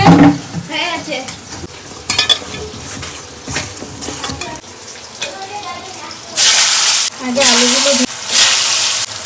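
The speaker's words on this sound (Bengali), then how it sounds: "এত গরম আছে তেল কিন্তু অনেক জোরে ছিটকাবে এখন যদি মাছ দেওয়ার মধ্যে" Fish frying and splattering in very hot oil in a pan, heard as loud bursts of hissing sizzle in the second half, after a stretch of stirring and clinking pans with a person talking.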